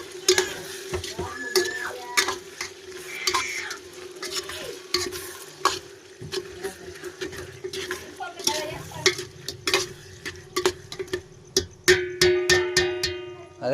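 Chicken curry being stirred and fried in a pan, with a steady sizzle under repeated scraping and clinking of a spoon against the pan, a voice speaking briefly in the background.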